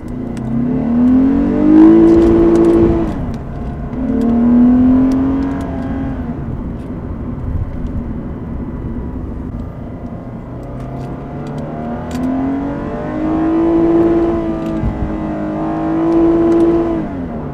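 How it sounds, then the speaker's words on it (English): A Lexus IS350's engine intake roars as the car revs hard toward redline in several rising bursts, swelling and falling back between runs, loud and close with no talking. "The sound you just heard was the intake sound, not the exhaust."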